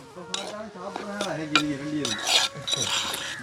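Vegetables are stirred in a cooking pot, with utensils scraping and clinking against metal in several short strokes, while a voice talks over the kitchen sounds.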